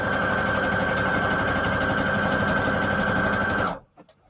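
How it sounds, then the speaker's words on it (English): A sewing machine zigzag-stitches scrap fabric, its motor whirring loudly and steadily with a rapid mechanical chatter for nearly four seconds before stopping abruptly, leaving only faint knocks. "Then we'll do zigzag again to end it."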